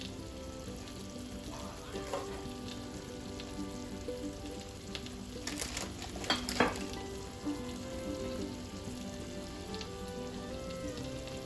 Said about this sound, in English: on a low heat. It's all gonna cook away.